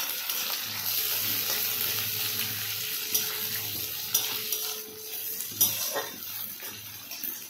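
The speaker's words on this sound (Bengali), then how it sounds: "বেশ লাল লাল করে ভেজে নেব" Jackfruit seeds fry in a pan with onions, making a steady soft sizzle with occasional scrapes and clinks of stirring.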